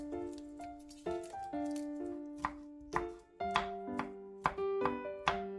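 A knife chops garlic on a cutting board with crisp, evenly spaced taps, loud and close. Soft ringing background music plays underneath.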